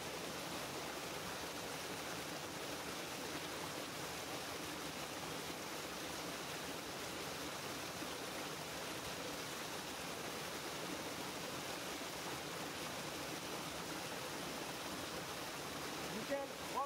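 Steady water running from a tap as hands are rinsed, a constant broadband hiss that holds evenly from start to finish with no talking.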